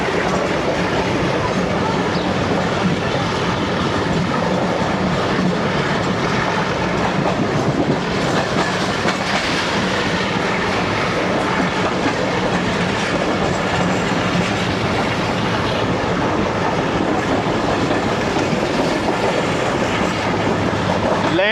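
Lasani Express passenger train rolling along rails, a loud continuous rumble with rhythmic clickety-clack of wheels over joints and occasional faint squeal, heard from inside the coach.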